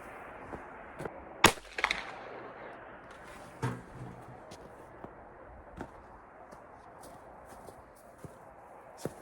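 A Winchester Model 94 Trapper lever-action rifle in .44 Magnum with Skinner sights fires a single sharp shot at the range, followed by fainter clicks and knocks in quiet outdoor surroundings.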